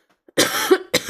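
A single person coughs once, close and fairly loud, a short rough burst followed by a brief second hack, with silence before it.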